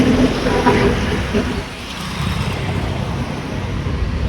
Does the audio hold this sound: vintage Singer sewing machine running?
no